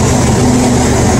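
A loud, steady engine rumble close by, a low droning hum that runs without pause.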